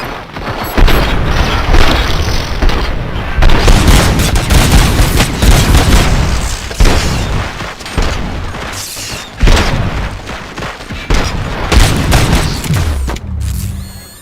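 Heavy gunfire in the RoboCop: Rogue City video game, loud booming bursts and rapid volleys packed densely together with short gaps, dominating throughout.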